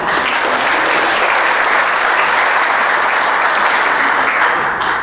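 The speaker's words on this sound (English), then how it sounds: "You can clap." Loud, steady applause from a large audience at a regional issues summit, a thick continuous wash of clapping holding for several seconds before easing slightly at the close.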